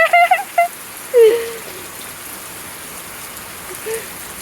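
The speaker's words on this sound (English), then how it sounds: "You like the rain!" Steady rain falls outdoors as a soft, even hiss throughout, with brief voices and whimpering sounds over it at the start.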